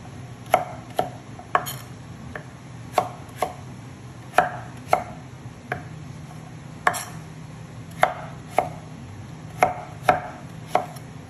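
A knife chops beets on a cutting board in about fifteen sharp, close knocks at an uneven rhythm, with a quiet hum beneath and no talking.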